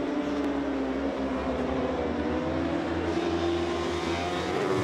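IRRC superbike racing motorcycles roar past in a continuous, loud, high-revving engine drone that holds steady throughout, heard from close trackside at a road race.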